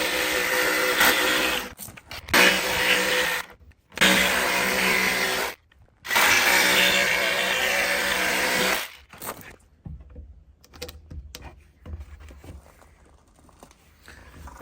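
A power tool fitted with a tiny, worn blade cuts a hole while building a flat canopy roof and frame, running loud in bursts with short pauses, then stopping and leaving quieter handling noises.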